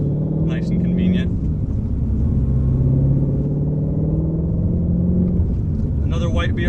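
A Ford Mustang Shelby GT350 rumbles steadily from inside the cabin, its deep exhaust note holding loud and continuous while a person talks over it.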